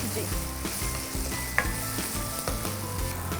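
Tomatoes and garlic chutney sizzle steadily in a hot pan, with a spoon stirring and scraping at intervals over the continuous frying crackle.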